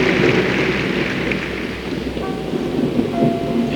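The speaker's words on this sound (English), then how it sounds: "You hear the thunder?" Deep rolling thunder fills an arena during a pairs figure skating free program, a loud continuous rumble with faint voices underneath.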